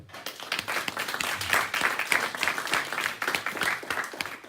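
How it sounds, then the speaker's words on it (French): Audience applause at a French party New Year's greetings event, a dense, uneven patter of many hands clapping at moderate distance, swelling and ebbing slightly with no voices over it. "Rien que pour ça, on peut l'applaudir."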